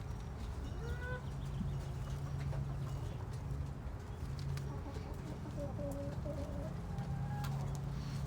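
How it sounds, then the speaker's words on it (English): Several types of chickens, including bantams, cluck softly inside a predator-proof coop, with a few short, faint calls scattered over a low, steady background. "We've got several different types of chickens here."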